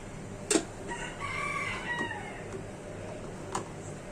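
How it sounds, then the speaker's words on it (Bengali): A rooster crows at a distance in an outdoor home kitchen setting, its long call rising and falling once, faint against steady background noise with a couple of sharp clinks. "আর আমি যখনই কথা বলি তখনই মোরগটা ডাক দেয়, তখন আমার কথা ক্লিয়ার আসে না।"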